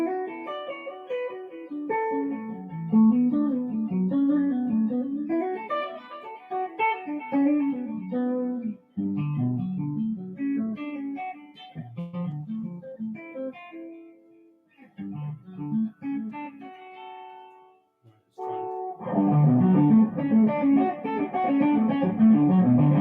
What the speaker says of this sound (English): Is that reverb and delay together?